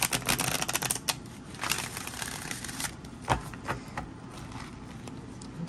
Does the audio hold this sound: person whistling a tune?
no